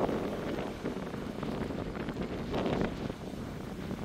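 Strong storm wind gusts roaring steadily and loudly across the microphone for the whole stretch, with broad buffeting surges outdoors and no voices.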